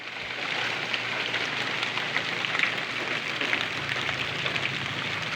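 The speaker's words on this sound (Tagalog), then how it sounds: "Kita niyo yung umuulan, no?" Steady rain falls outdoors in the countryside, a dense, even hiss of drops hitting surfaces that continues unbroken without any voices.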